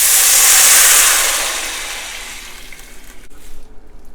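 Water poured into a hot pot of dry pollock soup gives a loud, bright hissing sizzle that peaks early and then fades. Uneven bubbling and sputter follow as it settles.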